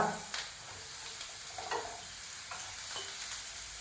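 Carrots sizzle steadily in a hot pan, a constant hiss with occasional scraping stirs, close by and fairly quiet.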